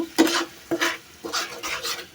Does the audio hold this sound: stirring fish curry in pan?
yes